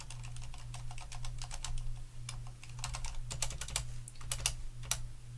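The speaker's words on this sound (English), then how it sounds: "so it's like standard typing" Rapid typing on a Corsair Strafe RGB keyboard with Cherry MX Silent switches, close-up clusters of soft muffled key presses over a low steady hum.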